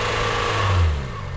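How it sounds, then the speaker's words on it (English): A 4x4 engine revs on a snowy moorland green lane as the tyres spin in snow, a close, rising motor drone that swells and then eases back. "The tyres are just spinning in a bit of snow."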